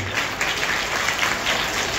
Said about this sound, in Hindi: आप लोगों के ताली बजाने के स्टाइल से पता लगता है कि आप कितने अनुशासित हैं।